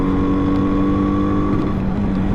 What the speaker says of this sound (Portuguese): Acelera o Honda, acelera.